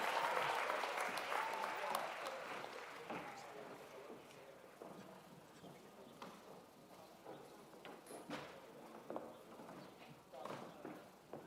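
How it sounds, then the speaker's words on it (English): Applause from a high school graduation audience in a large ceremony space, strongest at first then thinning into scattered claps, with a voice speaking over it. "How about a round of applause for that?"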